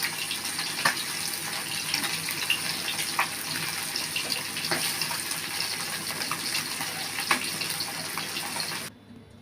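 Hot water pouring steadily over spices set to soak for a Bengali fish fry with taro, a continuous close splash and gush running about nine seconds before cutting off.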